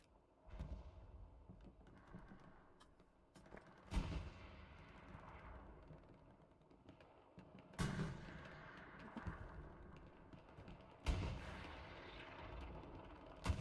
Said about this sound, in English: we have tank fights in the north